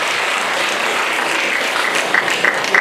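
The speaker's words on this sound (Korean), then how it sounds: "우리 이옥한 고모님을 박수로 환영해" Audience clapping to welcome a guest at a testimony gathering, a brief dense burst of applause that stays steady from start to finish.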